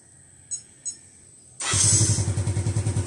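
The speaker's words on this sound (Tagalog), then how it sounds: "Yung fingerprint starter na yung motor natin." A Honda Mio Sporty scooter fitted with a fingerprint starter gives two short beeps, then the engine catches abruptly and settles into a loud, close, pulsing idle.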